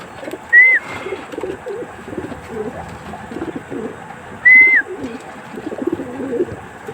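Racing pigeons coo softly in low, repeated murmurs close by, while two brief, sharp whistles cut through a few seconds apart.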